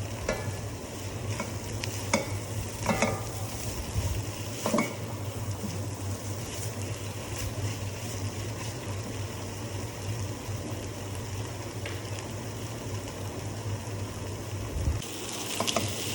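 A filling of mutton and potato with tomato ketchup fries in a pan for chops, giving a steady sizzle with intermittent spatula scrapes and a low background hum that cuts out near the end.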